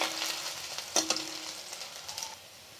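Onions frying lightly in a pan for a semolina dish, a soft steady sizzle with a few brief clatters of stirring, fairly faint and without talk.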